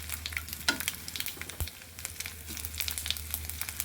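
Mustard seeds and garlic sizzle in hot oil while a sweet potato sour dish is cooked, giving a steady close frying crackle with scattered pops and a couple of sharper spatters.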